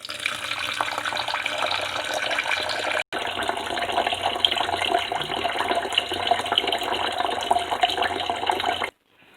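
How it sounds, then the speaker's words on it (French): Water runs steadily from a tap into a bowl of rice, a continuous close splashing flow that briefly stops and resumes, with a short gap near the end. "vous allez juste mettre de l'eau et puis après, vous allez frotter votre riz"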